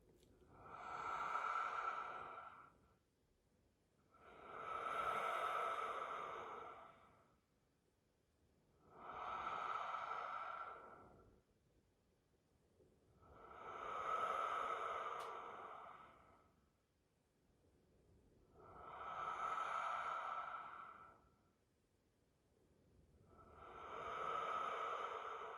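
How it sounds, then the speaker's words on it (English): Slow, deep human breathing with six long exhales spaced evenly across the clip. Each breath swells smoothly and fades again, close and clear in a quiet room, with no talking. "So my lungs are fully expanded. I pause just a moment, and then a slowish exhale."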